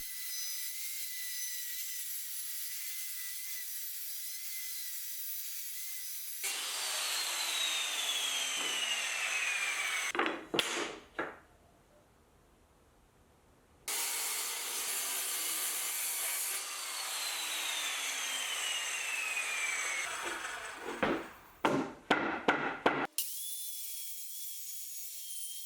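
Plywood being sawn by hand for a DIY box jump, two long runs of steady rasping strokes, each ending in a few sharp knocks and a pause, close and loud with no talk.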